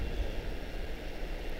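GE jet engines roar on a departing airliner at Charlotte-Douglas International, a steady low rumble that holds at moderate level from a distance, with no voices.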